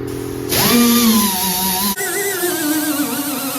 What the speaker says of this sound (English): I'm going to grind the paint off around the edges so that the weld is going to actually weld